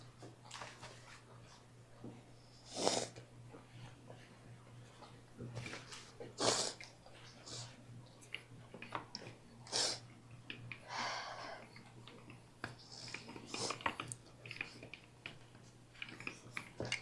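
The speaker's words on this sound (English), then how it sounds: "Why am I sniffling, bro?" Quiet, repeated sniffling from someone cooking a New York style pepperoni pizza in a kitchen, short nasal sniffs spaced every few seconds over a steady low hum.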